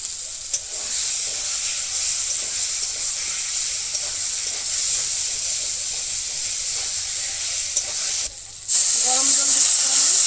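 Hot water poured onto frying potatoes and squash bursts into a loud, steady steaming hiss and sizzle that runs close up for several seconds, then breaks off briefly before a clattering return.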